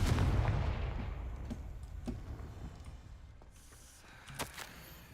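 A Confringo blasting spell goes off in the video game Hogwarts Legacy, a loud low boom at the start that fades into a rumbling tail, followed by a few soft clicks and ticks, with no talking.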